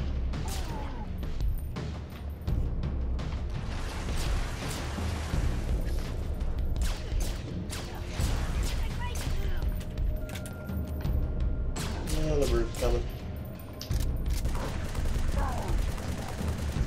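Sustained gunfire from the video game Halo 3 ODST, dense bursts of shots and booms running throughout, loud and continuous with a voice talking over parts of it.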